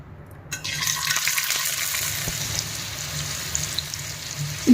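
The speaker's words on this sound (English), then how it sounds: "It's going to take a couple of minutes for me to fry these sausages." Chicken sausages sizzle and fry in a drizzle of oil in a pan, a steady hissing crackle that starts abruptly and continues evenly, close by.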